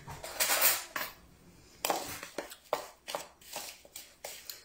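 Ingredients for a no-bake coconut Easter dessert are stirred in a bowl, with a run of irregular clinks and scrapes of utensil against dish, a louder burst at the start then steady separate knocks.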